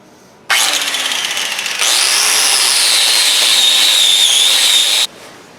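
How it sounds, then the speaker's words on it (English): A power wire wheel cleaning the hub surface of a Case IH MFWD tractor axle where the wheel seats, a loud close continuous whirring grind lasting several seconds between brief pauses, no talk. "I'm going to go around this surface where the wheel meets and wire wheel it and clean it all up"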